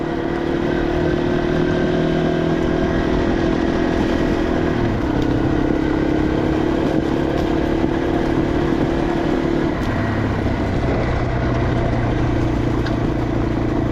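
A Yamaha TW200 motorcycle rides an abandoned railroad bed, its engine droning loud and steady up close, with the pitch shifting a couple of times as the throttle changes.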